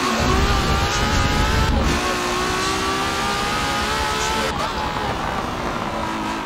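A car engine revs hard and continuously in a loud, sustained drone, with rising and falling pitch sweeps as the throttle is worked, and no talk over it.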